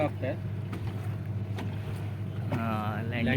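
Indian Navy ship INS Guldar moving slowly through the water near Vijaydurg fort, a steady low engine rumble with wind and water noise throughout, and people talking over it.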